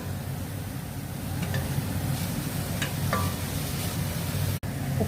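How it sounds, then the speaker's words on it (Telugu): Ginger frying in a pan for chicken ginger soup, a steady soft sizzle with faint stirring scrapes and one sharp click near the end. "జింజర్ వేసుకుని ఫ్రై చేసుకుందాము."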